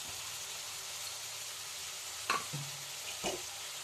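Squid filling stir-fried in a pan with coconut, salt and turmeric gives a steady close sizzle with a few clinks from the utensil against the pan.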